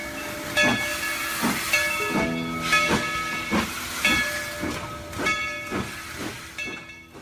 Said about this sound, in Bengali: ট্রেন 2-3 মিনিট থেমে চলে গেল